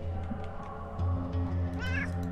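A cat meows once, brief and fairly clear, in the video game Underrail, over a steady droning game soundscape with low humming tones.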